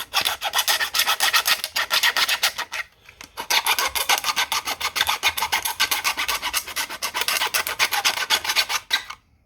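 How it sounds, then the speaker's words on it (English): Someone files excess material off a 3D-printed plastic part in quick, even back-and-forth rasping strokes, close and loud. A short pause breaks the rhythm near the start before steady filing resumes. "Any excess can be just taken off of the top with either a razor blade or a file, which is what I'm going to do."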